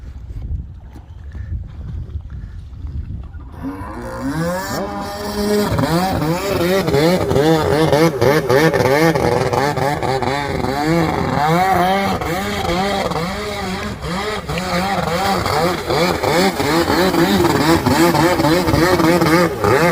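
A Kawasaki X2 jet ski with a swapped 750 engine starts up after quiet water noise, then runs loud and close with a rough, revving mid-pitched drone that rises and falls in pitch throughout.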